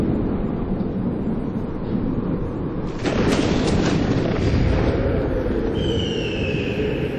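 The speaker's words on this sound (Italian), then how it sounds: "Ok, i tuoni non sono rassicuranti." Thunder in the racing game Need for Speed Hot Pursuit rolls as a loud, sustained rumble over rain-like noise, with a sharper crack swelling midway and continuing heavily to the end, no talk.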